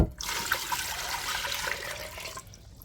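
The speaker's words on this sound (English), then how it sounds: "So I'm just going to pour the water in." Water pours steadily into a cooking pot in a kitchen, a close, continuous splashing gush for about two seconds that stops abruptly, with no voices.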